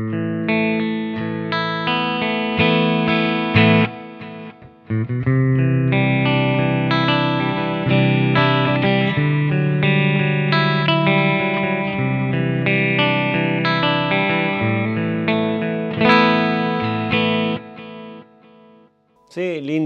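An electric guitar on a clean channel runs through a Flint reverb and an H9 delay, ringing chords and notes trailing into echoing tails, loud and sustained with brief pauses.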